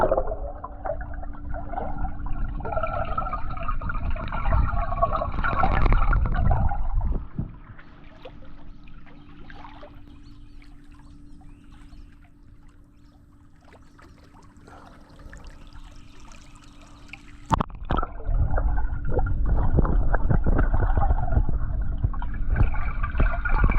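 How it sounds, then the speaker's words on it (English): Underwater sound captured by a GoPro submerged in a half-acre backyard pond: a muffled watery rumble and gurgle, fuller at the start and end and quieter in the middle, with a steady low hum and no voices. "I'm just gonna check this GoPro under the water"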